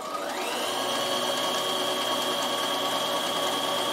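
Bernina sewing machine running a zigzag mending stitch, a steady close whirring drone that climbs slightly in pitch as it speeds up, then holds even and continuous.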